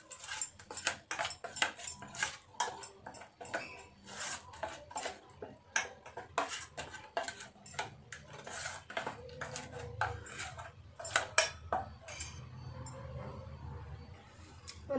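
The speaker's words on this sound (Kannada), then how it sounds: "ಇದಿಷ್ಟು ಹಾಕಿದ್ಮೇಲೆ ನೀಟಾಗಿ ಇದನ್ನೆಲ್ಲ ಒಂದು ಸತಿ ಮಿಕ್ಸ್ ಮಾಡಿಕೊಂಡು" Ingredients are mixed with ginger garlic paste in a bowl while preparing a paneer dish. A spoon clinks and scrapes against the bowl in uneven bursts, close up, with no talking.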